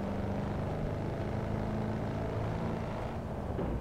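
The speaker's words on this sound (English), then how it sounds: "there seemed to be a lot of noise in the car." Cabin noise inside a Corvette C7 Stingray in the Assetto Corsa racing game: a steady, loud engine and road drone with a constant low rumble, no speech.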